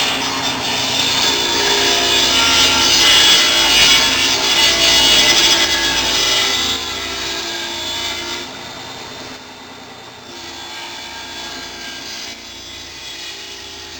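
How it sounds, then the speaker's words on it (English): A wood slab being ripped lengthwise in half, a continuous loud rasping saw cut that holds steady for several seconds, then drops to a quieter grinding as the cut finishes, close up with no talking. "So now I'm going to rip it in half."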